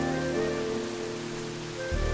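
Heavy rain pours down steadily outdoors, a dense, even hiss that fills the whole stretch without a break, with a low rumble joining near the end; no one speaks.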